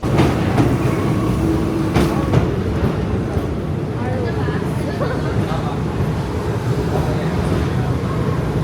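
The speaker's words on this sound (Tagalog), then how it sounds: "Ito na yung train namin. Ayun na." Train pulling into a busy Paris metro or railway station, a steady rumble of wheels and carriage noise filling the platform throughout, with people talking over it.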